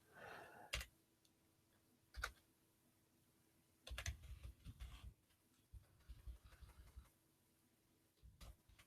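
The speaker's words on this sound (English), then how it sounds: "let me try typing in here" Quiet bursts of typing on a computer keyboard, a few short clusters of key taps separated by pauses, close and faint in a still room.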